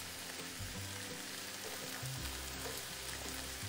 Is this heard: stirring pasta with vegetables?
yes